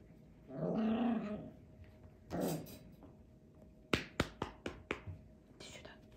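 Italian greyhound puppies at play make low growls, then a quick run of sharp taps and scuffles follows, with a soft voice heard nearby.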